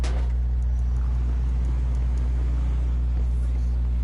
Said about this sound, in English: It's been a while since I drove the Krieger.